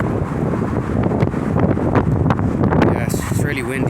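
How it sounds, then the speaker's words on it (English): Strong outdoor wind buffets the microphone in a continuous loud roar with gusty rumbling, while a voice talks underneath it. "the wind is quite loud now"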